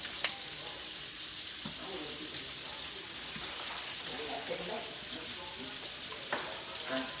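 Sausages for gumbo sizzle and fry steadily in a hot pan, a dense continuous crackle with occasional stirring scrapes and small pops, fairly close and alone.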